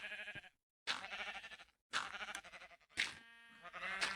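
Sheep bleating in a video game, several clear, fairly loud bleats in a row separated by short silent gaps.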